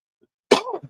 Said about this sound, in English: It was actually a cough